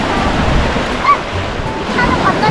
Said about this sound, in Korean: 파도도 길고.